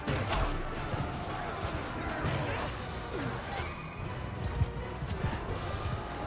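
Horses gallop in a Mount & Blade II Bannerlord battle, their rapid clip-clop of hooves thudding steadily beneath the clash and din of fighting, with a voice talking over it.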